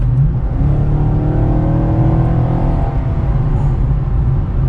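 A Chevrolet SS sedan accelerates on the road, its steady, loud engine drone and rising harmonics filling the cabin continuously with no talking.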